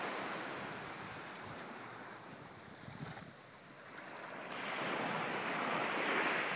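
Ocean waves wash steadily onto a beach in St. Croix, a continuous broad surf roar with gentle swells and a louder surge near the end, with some wind buffeting the microphone and no voices.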